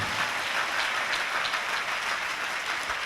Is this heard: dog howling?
no